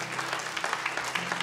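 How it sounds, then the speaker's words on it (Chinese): A church congregation claps to welcome the pastor before the sermon, a short burst of steady, many-handed applause heard at moderate distance. "我们拍手欢迎他"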